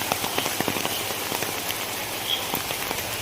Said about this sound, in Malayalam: നല്ല മഴയുണ്ട്. പുറത്തേക്കോട്ട് ഇറങ്ങാൻ പറ്റാത്ത അവസ്ഥയാണ്.